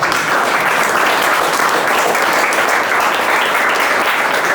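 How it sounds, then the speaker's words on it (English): An audience at an award ceremony at a coaching institute in Motihari claps loudly and steadily, a dense unbroken wash of applause from start to finish. "Please join me in giving a loud, proud, heartfelt round of applause to Assistant Commandant Gurkaval."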